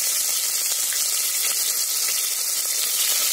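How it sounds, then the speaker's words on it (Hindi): Onion dropped into hot oil for Kashmiri kabab kanti, a bright, loud, hissing sizzle that holds steady from start to finish, close up and with no voices. "तेल है ये अब गर्म हो चुका है, तो अब इसमें हम प्याज डालेंगे"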